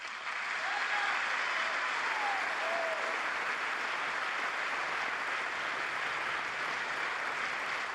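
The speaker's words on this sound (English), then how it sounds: "stand up to give him claps" Sustained applause from the audience in the US Congress chamber for the Israeli prime minister, a steady dense wash of clapping lasting throughout at even loudness with no talk over it.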